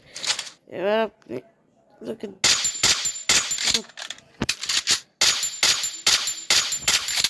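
Rapid gunfire and headshots in a shooting video game, sharp repeated bursts in quick succession, loud and close, following a short stretch of voice and game sounds at the start.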